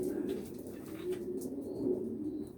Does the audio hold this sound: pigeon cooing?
yes